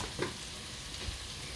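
Olive oil hits a hot pan for a Bangladeshi dried-fish and eggplant dish with turmeric already in, giving a steady, faint sizzle with a brief louder crackle near the start and no talking.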